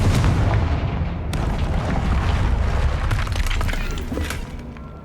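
Confringo fire spell blasts in Hogwarts Legacy, a loud opening boom followed by a second sharp blast and sustained rumbling crackle of explosions and debris, continuous and dense throughout.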